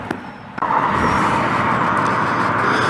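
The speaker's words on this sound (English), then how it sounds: "There is some traffic noise coming kind of 45 degrees to my left" Passing cars create a steady, broad traffic roar off to one side outdoors. It swells up after a brief click near the start and then holds fairly loud and continuous.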